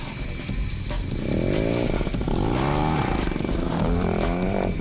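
BMW R nineT Scrambler boxer twin engine, a loud nearby exhaust note with a rough low throb that swells into rising and falling revs, heard alone without talk.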